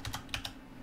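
A few quick, faint keystrokes on a computer keyboard while HTML code is typed, light clicks close by in a quiet room.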